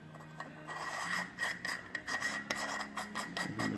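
Small plastic part of a Besteker camera being unscrewed while unboxing, faint close rasping and scraping twists in short irregular strokes, quiet and alone.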